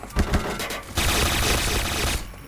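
Bursts of automatic gunfire from the shooter game Point Blank: a few separate shots, then a dense sustained volley that runs for over a second before cutting off, loud and close.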